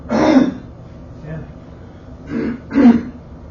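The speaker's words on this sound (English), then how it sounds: "Let me clear my throat." A throat being cleared several times, in short gruff bursts separated by pauses, close and fairly loud.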